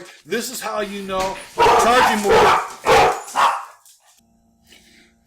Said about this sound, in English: Sorry for the dog barking there.